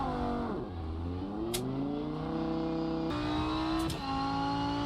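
A race car engine at Monza in the video game Rennsport rises and falls as it shifts through gears on the straight after leaving the pits, loud and close, with the engine pitch climbing in steps.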